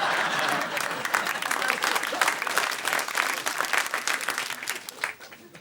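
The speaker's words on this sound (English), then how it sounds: "Very generous, full round of applause for the slam" A comedy club audience applauds a stand-up comic, loud sustained clapping and cheering that fills the room before tapering off at the end.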